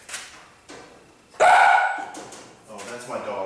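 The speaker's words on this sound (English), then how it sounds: "that's my dog, Tommy" A pet dog named Tommy barks in a sharp, loud burst partway through, cutting across a man's speech about group theory, with talk continuing afterward.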